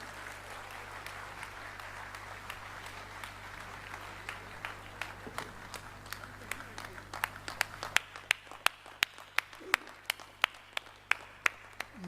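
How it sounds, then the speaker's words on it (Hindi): A crowd at the Jashn-e-Javed Akhtar event in Dubai claps continuously for Javed Akhtar coming on stage; the dense applause then thins into sharp, spaced single claps, with a low hum behind it. "आज तो ज़ोरदार तालियों से इस्तकबाल होना चाहिए।"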